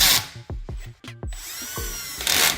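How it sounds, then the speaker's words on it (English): A power drill driving bolts while a small mobile standing desk is assembled: a few short, close whirring bursts with brief pauses between them. "we're using power tools only to speed up things."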